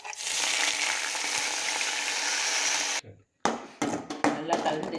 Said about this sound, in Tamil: அடுத்தது கருவேப்பிலையை கிள்ளி உள்ள சேர்த்துக்கிறேன்